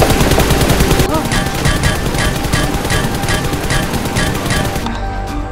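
Rapid gunfire crackles through an animated Spider-Man action scene, with steady bursts of shots layered over loud music and effects that fill the whole stretch.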